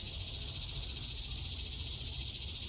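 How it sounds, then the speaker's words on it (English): A cicada buzzes steadily beside a summer nature trail, a continuous high droning hiss with no pauses and no voices, carrying clearly at moderate loudness. "This sound is made by a type of locust called a cicada."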